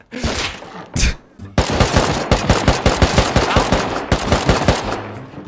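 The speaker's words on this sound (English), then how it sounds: "Armalal, I don't know if you hear the gunshots" Rapid bursts of gunfire in the video game Rust crackle loudly in quick succession, a few isolated shots followed by a sustained automatic volley with a steady rhythm.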